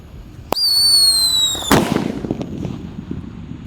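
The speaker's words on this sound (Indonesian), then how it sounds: "Pearl Thunder sudah menyala." A Pearl Thunder firework goes off: a sharp pop, then a bright sustained whistling screech for about a second, ending in a loud close bang followed by crackling debris that fades out.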